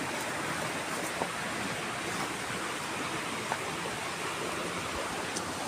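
Steady broadband rush of a small countryside stream flowing, continuous and fairly faint, with no voices over it.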